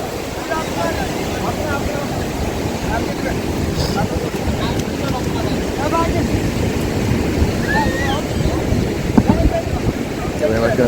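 Steady roar of sea waves breaking close by on the coast at Puri, lifting a boat, with wind buffeting the microphone throughout.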